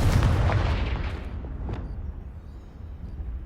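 The Confringo fire spell in the video game Hogwarts Legacy bursts with a heavy, booming explosion that opens loud and rumbling, then decays into a long low roar with faint crackles.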